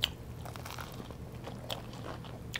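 A few crunchy bites into a crispy In-N-Out burger, followed by soft chewing, heard close and fairly quiet with no talk.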